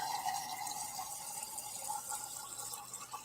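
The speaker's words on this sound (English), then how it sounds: "we get the water like straight out of the contraption in the fridge" Water runs from a refrigerator's built-in dispenser into a glass, a steady close hiss and trickle lasting a few seconds with no talk.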